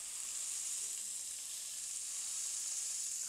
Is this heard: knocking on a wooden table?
no